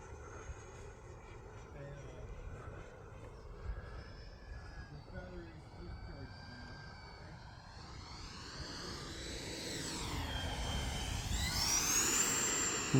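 An E-flite F-16 Falcon 80mm electric ducted-fan RC jet passes overhead with a steady rushing whine that swells and shifts in pitch as it gets closer and louder toward the end, under outdoor wind noise.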